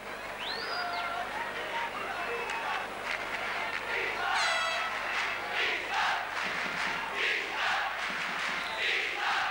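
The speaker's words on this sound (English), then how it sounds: "You can hear what the Reykjavik crowd think of that." A football stadium crowd in Reykjavik, Iceland, roars and whistles throughout, with a loud swelling chant and cheering during a European Championship qualifier, heard from the stands over a broadcast mix.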